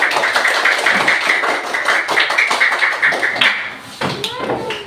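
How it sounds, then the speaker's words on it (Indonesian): Group of children clapping in applause in a classroom after a coding and artificial intelligence lesson, a dense steady patter of many hands that fades out near the end. "Oke, tepuk tangan untuk kalian."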